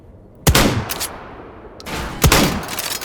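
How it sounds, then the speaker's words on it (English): Two loud shotgun blasts from a Swag 7 long-range shotgun in the virtual reality game H3VR, each a sharp boom with a ringing tail, spaced under two seconds apart, no talking. "a long-range shotgun"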